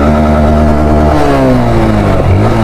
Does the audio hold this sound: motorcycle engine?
yes